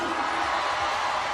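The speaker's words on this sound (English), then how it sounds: "Homecoming crowd getting behind their Bears defensively." Homecoming crowd at a 2018 MEAC college football game between South Carolina State and Morgan State, cheering for the Bears defense on a third down: a broad, steady roar of many voices filling the stadium, sustained and fairly loud throughout.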